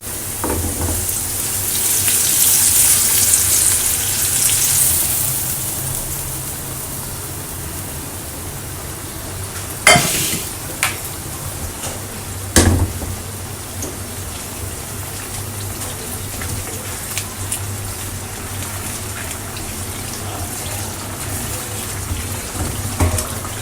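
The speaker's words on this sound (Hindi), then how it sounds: "तो ये सारा मसाला और टमाटर सब मैंने मिक्स कर लिया और अच्छे से भून लिया है।" Masala and tomatoes frying in a kadai make a constant, rain-like sizzle, broken by a couple of sharp clicks or utensil knocks partway through. No one speaks.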